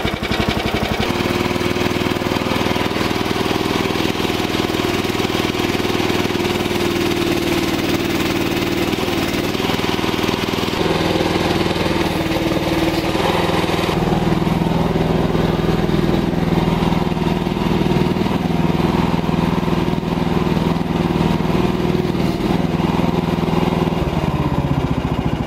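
A Mygale 500 mini excavator engine runs steadily and loudly up close, a continuous mechanical drone that shifts slightly in pitch partway through as the machine works.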